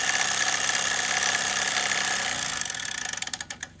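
A Doll overtype Locomobile model steam engine burning hexamine fuel tablets runs with a fast, steady hissing chuff up close. Toward the end it slows into distinct, separated exhaust beats.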